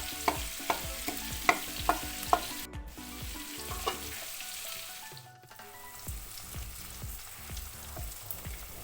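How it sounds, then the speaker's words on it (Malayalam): Green beans for a Kerala mezhukkupuratti fry and get stirred in a pan: a soft sizzle runs underneath while a spatula scrapes and taps the pan again and again, with sharper clinks early on and short pauses in the middle. "മെഴുക്കുവരട്ടി നമുക്കൊന്ന് ഇളക്കിയിട്ട് കൊടുക്കാം"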